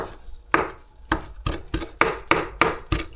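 A knife chops a bunch of cilantro on a board in about eight sharp, close strokes at an uneven, quickening pace, with short quiet gaps between cuts.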